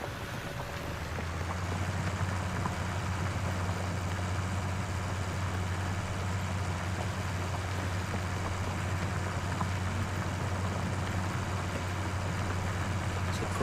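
Tractor engine in Farming Simulator 19, a modern classic model, drones steadily with a strong low rumble, loud and close, running continuously without talk.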